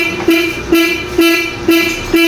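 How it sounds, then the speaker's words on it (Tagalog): A Honda Wave 125S motorcycle horn honks in short repeated blasts, five loud, evenly spaced toots close by, each with a brief buzzy tone. "kahit magbusina tayo"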